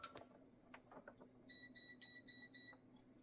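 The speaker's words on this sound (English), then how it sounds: "there's my multimeter across the room beeping at me" A multimeter across the room emits a series of five evenly spaced electronic beeps, moderately loud against a quiet room with faint background clatter at the start.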